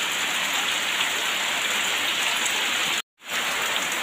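Heavy rain pours in a constant, loud hiss that cuts out for a split second before resuming at full strength.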